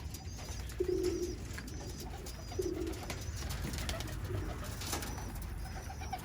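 Birmingham Roller pigeons coo in a few low, soft phrases spaced a couple of seconds apart, set against steady outdoor background noise with faint higher chirps.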